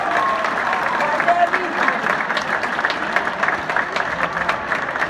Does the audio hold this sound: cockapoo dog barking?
no